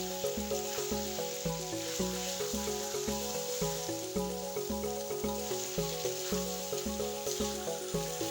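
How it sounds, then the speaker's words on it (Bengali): Spiced liver sautéing in oil gives a soft, steady sizzle that sits quietly under louder rhythmic background music. "সমস্ত কিছু ভালো করে কষিয়ে নিতে হবে।"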